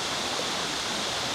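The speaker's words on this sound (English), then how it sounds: "You can see the creek heading all the way back up. That's Cowan Creek" Cowan Creek running through bushland near Ku-ring-gai Wildflower Garden in St Ives, NSW, gives a steady, broadband rush of flowing water, even and continuous with no voices.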